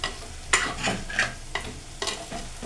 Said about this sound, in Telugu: వేసేసుకొని ఇట్లా మెల్లగా కలబెట్టుకోవాలి